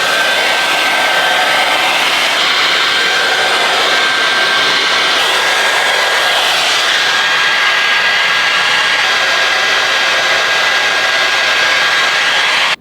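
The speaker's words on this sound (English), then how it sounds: "So I really liked this blow dryer." A T3 Micro AireLuxe hair dryer with a diffuser attachment blows steadily while drying curly hair, a loud, continuous whooshing roar with a thin high whine that holds for the whole stretch, with no voices.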